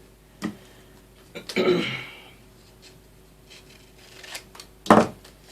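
Scissors cutting craft material for a Valentine gift jar: a few crisp snips close by, a brief cluster near the start and a sharper cut near the end, with quiet gaps between.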